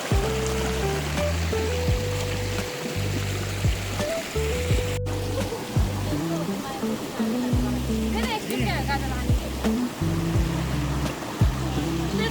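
A forest stream near Saktikhor waterfall in Chitwan rushes as a constant broadband wash, heard beneath a person talking over it for the whole stretch.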